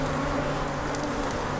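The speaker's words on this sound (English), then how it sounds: "We're going to bang the bees, and they're going to mill around a bit." Honeybees milling around an opened hive during an inspection, giving a steady, close swarm-like hum with a few brighter passes of individual bees.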